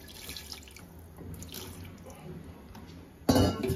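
Water for cooking beef curry, heard as light drips and trickles at first, then a sudden louder gush of water poured into a pot near the end, close and without talk.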